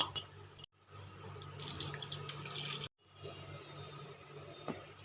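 Water running from a tap into a bowl of scraped raw green mango pulp in a home kitchen, a steady pour in two bursts with a short break between, close and alone.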